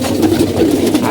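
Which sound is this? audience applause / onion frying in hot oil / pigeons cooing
pigeons cooing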